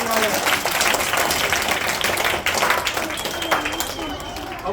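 A large audience at a school annual function applauding loudly, with dense, sustained clapping filling the whole stretch and a crowd murmur beneath.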